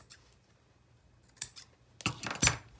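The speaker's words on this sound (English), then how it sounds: "I'm going to pull my pin out and I'm going to snip." Scissors snip through felted wool in a needle felting flower project, giving a few sharp, close cuts: a light one near the start, another around midway, then a louder cluster of snips at the end.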